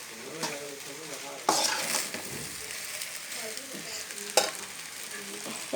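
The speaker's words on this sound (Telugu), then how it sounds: "కొంచెం కొంచెం వేసుకొని మంచిగా కలుపుకోవాలి. పైకి కిందకి అనుకుంటూ ఉండాలి." A spoon stirs tomato bath in a cooking pan, with steady sizzling and frying, a few sharp scrapes and clinks against the metal, close and moderately loud with no talk.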